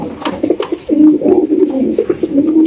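Pigeons at a seller's stall call close by, a loud run of repeated throaty coos rolling one into the next, with no voices.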